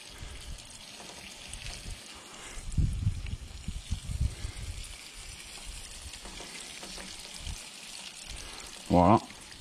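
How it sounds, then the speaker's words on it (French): Fish pieces just laid into hot oil fry over high heat, a soft continuous sizzle with a few louder bursts of bubbling and a brief clatter near the end. "délicatement, je viens de déposer mes poissons à l'intérieur"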